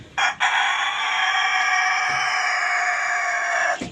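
A rooster crows loudly and close in one long sustained call lasting several seconds, preceded by a couple of short clucks; the bird is a moulting chicken.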